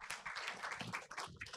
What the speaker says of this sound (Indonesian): Boleh sekali lagi tepuk tangannya untuk Bapak Edi